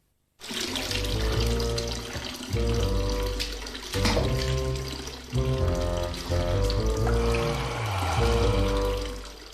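Hot water from a gas-heated supply gushes from a tap in a steady, full-bodied rush, loud and close, with musical tones playing underneath.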